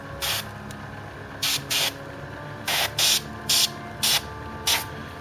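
Short bursts of hissing spray come in a broken rhythm, about eight quick puffs close by, like an airbrush or spray can being pulsed.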